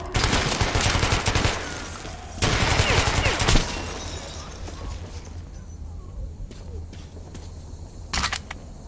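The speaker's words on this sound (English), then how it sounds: "It's a good thing that bastard gun is so incredibly inaccurate." Bastard gun in the video game Metro 2033 firing rapid automatic bursts, dense crackling volleys in two clusters over the first few seconds, then a quieter stretch with scattered single clicks and shots.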